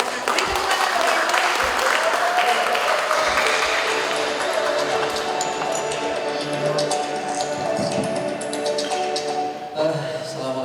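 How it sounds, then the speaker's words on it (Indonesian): Audience applause at an Indonesian seminar session: steady, dense clapping from a crowd that holds at a loud level for about ten seconds, with faint voices mixed underneath and a brief dip near the end. "Beri tepuk tangan untuk Ibu."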